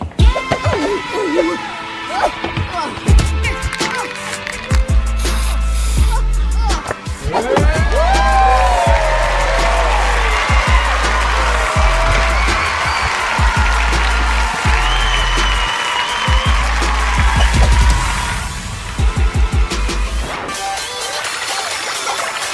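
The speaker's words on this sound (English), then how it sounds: "convince the crowd to give her another standing ovation" An animated cartoon crowd cheers and applauds in a standing ovation, loud sustained clapping and whooping filling the scene with scattered shouts, continuing strongly before easing off near the end.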